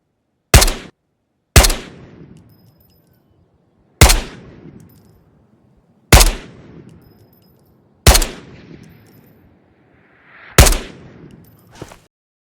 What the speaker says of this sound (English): And again, AK Alpha, unsuppressed.